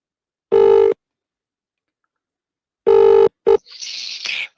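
Telephone tones connect a caller to a live football phone-in radio show: two steady electronic beeps separated by a pause, then a short blip and a burst of noisy line static, loud and close.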